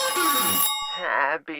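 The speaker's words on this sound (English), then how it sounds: "I hear the ringing of a phone" In Silent Hill 3, a phone rings inside a men's locker room, one bright electronic ringing burst that stops before a narrator starts talking.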